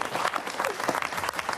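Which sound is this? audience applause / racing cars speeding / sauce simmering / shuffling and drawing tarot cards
audience applause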